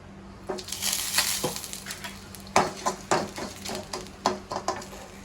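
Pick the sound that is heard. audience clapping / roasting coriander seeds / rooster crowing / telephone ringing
roasting coriander seeds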